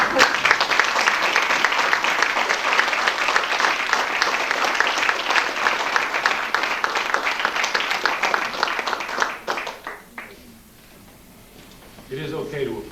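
Sustained applause from a large audience at a poetry reading, dense and loud for about ten seconds, then fading out into quiet before a voice begins to speak.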